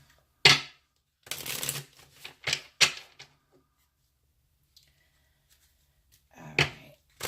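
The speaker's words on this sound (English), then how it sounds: "So I'm going to shuffle the cards to clarify." Tarot cards are shuffled on a desk in several loud, close riffling bursts separated by short pauses, with a quieter gap midway before a final burst.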